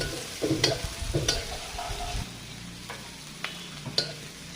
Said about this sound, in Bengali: পেঁয়াজ ভেজে নিচ্ছি।